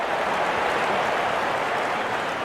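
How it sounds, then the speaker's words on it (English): A cricket crowd at a New Zealand versus South Africa Test match applauds a batsman reaching fifty, giving a dense, steady wash of clapping that fills the whole stretch. "Wonderful 50 and the crowd applauds."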